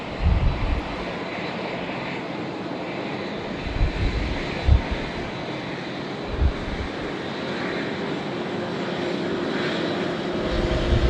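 An airliner passes at Sydney Airport, heard from near the air traffic control tower as a sustained, fairly loud engine roar and rumble throughout, with no speech.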